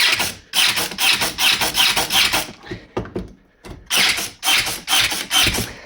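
Procraft pruning shears grind and rasp against a branch in repeated strained bursts, loud and close, each squeezing stroke separated by short pauses as the blades struggle to bite through the wood.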